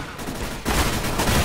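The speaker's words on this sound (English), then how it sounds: "Stop shooting at me!" Dense rapid gunfire in CS:GO, a continuous loud burst of overlapping shots that swells in intensity partway through, with no voices.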